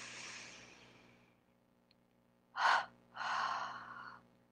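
During a chair yoga breathing exercise, a slow inhale fades out, followed by two distinct breathy exhales, the first short and sharp, the second longer, close and quiet.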